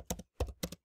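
Three quick bursts of keystrokes on a computer keyboard, each a cluster of two or three crisp clicks separated by brief silences, close and clear with no talking.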